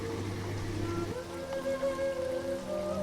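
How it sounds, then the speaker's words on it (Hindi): Heavy rain pours as a sound effect in an animated Hindi moral story, a steady hiss of falling water under sustained background music tones. "तेज बारिश शुरू हो जाती है, जैसे आसमान फट पड़ा हो।"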